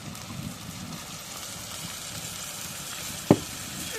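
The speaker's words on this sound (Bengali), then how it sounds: "সব কিছু দেওয়ার সাথে এখন নাড়া দিই।" Turmeric and other spices stirred with fish in a frying pan: a steady soft sizzle of hot oil with faint scraping throughout, and one sharp knock of the utensil against the pan near the end.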